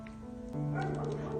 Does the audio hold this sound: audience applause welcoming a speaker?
no